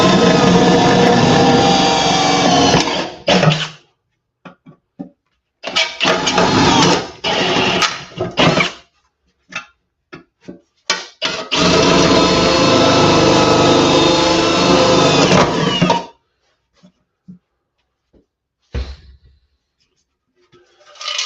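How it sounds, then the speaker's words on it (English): A power drill runs in three long bursts with short stops and brief taps between them, loud and close, then a few quieter clicks near the end. "Drill action."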